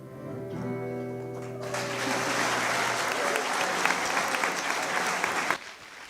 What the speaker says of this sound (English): Ancora un applauso alle novizie.